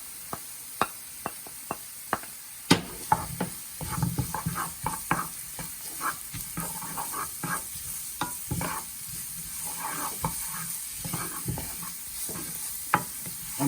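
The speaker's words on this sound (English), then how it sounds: "So add chopped celery" Chopped celery fries in a pan for a Nepali-style Szechuan sauce: a crisp run of sharp spatula taps and clacks at first, then a continuous crackling sizzle broken by scraping stirs, with no voices.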